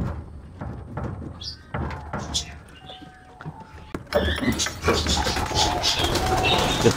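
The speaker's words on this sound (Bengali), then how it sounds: "এই যে এখানে আরো কবুতর আছে।" Pigeons around a pigeon house call softly in the open air, with scattered chirps early on and a louder, busier stretch of rustling and fluttering activity in the second half.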